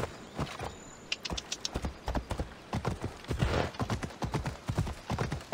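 Steady clip-clop of horse hooves at a trotting rhythm in the video game Assassin's Creed Odyssey, close and prominent, with an occasional whinny.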